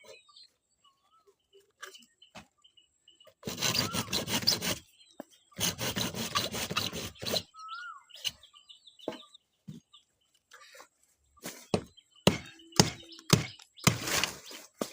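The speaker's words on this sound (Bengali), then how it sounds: "বাঁশ কাটতাছি।" Bamboo sawn by hand for a chicken farm shed: two long bursts of steady back-and-forth rasping strokes, then short scattered cuts and knocks, with roosters and hens clucking in the background.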